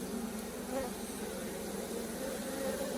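Honey bees, workers and drones, drone continuously at a feral open-air hive in southern Arizona, a soft, even buzz close by with no talking.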